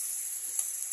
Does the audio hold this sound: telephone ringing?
no